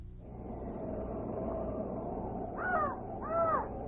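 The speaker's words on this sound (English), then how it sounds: "I only hear a raven croaking." A raven croaks twice near the end, two distinct harsh calls over a steady background hum in a radio drama scene, with no speech during the calls.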